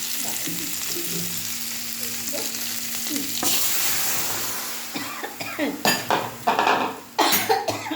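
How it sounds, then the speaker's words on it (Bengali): Curry poured into a hot pan of lightly fried prawns, bursting into loud sizzling with spoon scrapes and clanks against the pan, growing choppier and more intense toward the end, with a cough in the background. "এবারে আমি এই তরকারিটা ঢেলে দিয়ে দেবো"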